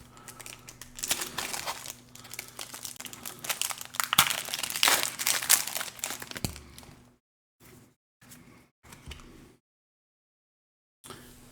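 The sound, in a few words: tearing open Pokémon Prismatic Evolutions booster packs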